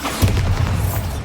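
A Bombarda explosion spell cast in Hogwarts Legacy gives one short, muffled boom with a deep thump, heard alone and close.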